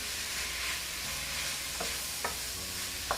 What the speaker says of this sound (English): I'm going to add them now so they can fry up a little bit